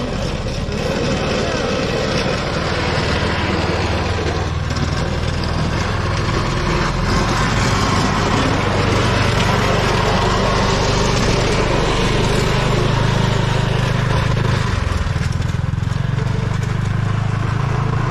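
A 2022 Kawasaki Mule Pro-MX utility vehicle plowing a thin layer of snow, its engine running steadily with a constant scraping rumble throughout, close and loud, with a voice talking over it.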